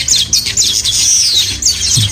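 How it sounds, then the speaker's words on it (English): Birds at a nature park chirp and tweet in quick repeated bright calls, several overlapping notes close by with a few lower squawks underneath. "The birds are so beautiful."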